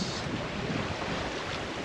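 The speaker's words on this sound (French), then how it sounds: "Il y a un peu plus de vent ici." Steady, loud wind of about 15 knots rushing across open water between Mallorca and Menorca aboard a sailboat, with a broad roar and low buffeting gusts, and waves washing underneath.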